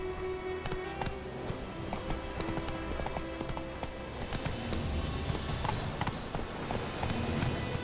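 A horse gallops in The Witcher 3, its hooves beating a fast, steady clip-clop rhythm on the ground, moderately loud and continuous against a soft ambient game backdrop.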